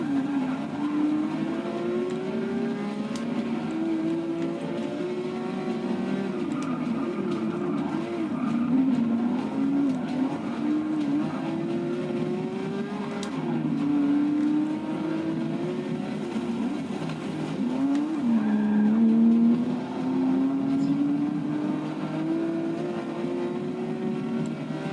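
Race car engine from Forza 6 Porsche gameplay, a steady loud drone rising and falling through gear shifts with occasional squealing tires, alone with no talk.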